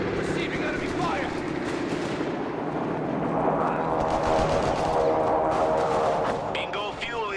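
Continuous battlefield gunfire and machine-gun bursts in Company of Heroes 3, a dense crackling roar with distant booms, heard under unit voices speaking.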